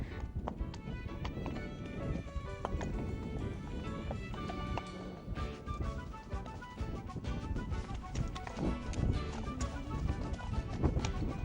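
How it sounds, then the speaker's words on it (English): Horse hooves clip-clop in a steady walking rhythm on a hard path, accompanied by light clattering and faint background noise. "thankfully, we've got horses carrying us today"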